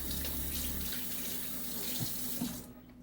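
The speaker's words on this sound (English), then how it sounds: "Wash your hands." Hot tap water runs steadily into a kitchen sink for hand washing while French toast is being made, a continuous close hiss that stops abruptly near the end.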